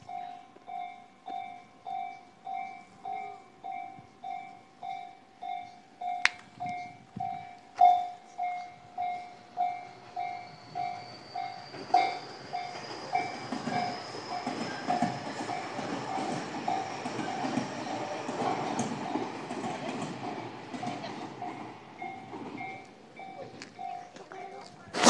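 A train passes a level crossing in Kasukabe, its crossing bell ringing steadily in a regular rhythm before a loud rush and clatter of the cars builds and continues close by, with the bell still going underneath.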